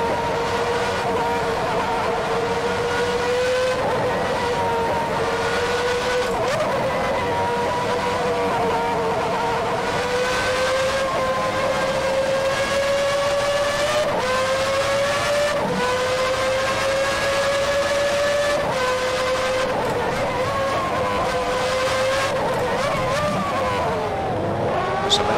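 A 1990 McLaren MP4/5B Formula One car racing in rFactor 2, its high-revving engine screaming continuously and loud, pitch climbing through gears and dipping on shifts over a steady lap.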